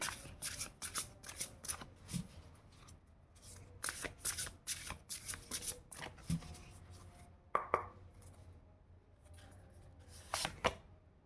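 A deck of tarot cards is shuffled close up, in quick bursts of riffling and snapping that come in clusters with short pauses between them, quiet overall and without talk.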